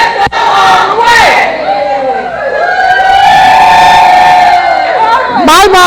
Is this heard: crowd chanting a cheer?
yes